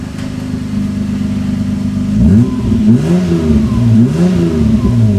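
Loud, raspy car exhaust with the cutout valve open idles close by, then the engine is blipped in several quick, aggressive revs that rise and drop sharply.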